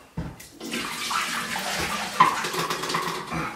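Fixer rinse water pours out of a film developing tank in a steady splashing stream for a few seconds, close by, with a brief louder gush near the end.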